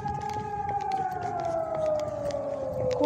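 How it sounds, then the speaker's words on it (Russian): An air raid siren wails over wartime Kharkiv, one long, slowly falling tone that carries steadily from a distance across an outdoor park, with faint street noise underneath. "Это сирена еще и бахает что-то."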